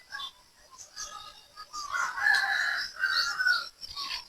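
Backyard chickens cluck and a rooster crows at close to moderate range, repeated calls overlapping through the whole stretch, with faint talk in the background.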